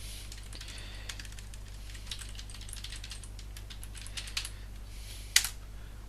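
Someone types on a computer keyboard, producing a quick run of light, close key clicks at an uneven pace, with one sharper louder tap near the end and no voices.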